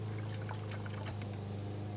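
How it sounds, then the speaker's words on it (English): Weed and grass killer is poured from a container into a sprayer at a no-till food plot, a soft steady trickle under a constant low engine-like hum, close and faint. "so he's just going to pour in a cup"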